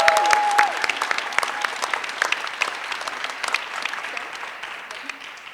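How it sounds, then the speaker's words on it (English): An audience at the 2020 University of Waterloo Hult Prize final competition claps in a round of applause. Individual claps are distinct at first, then the clapping thins and fades steadily toward the end. "You've been amazing, so please join me in a round of applause for Kaliana."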